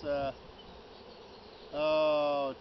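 Honeybees at an opened beehive being split, with a close buzz at the start and a louder, steadier one about a second later as a bee passes near, over a quieter hum.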